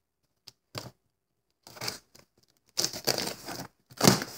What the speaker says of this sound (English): Getting out the old trusty scissors.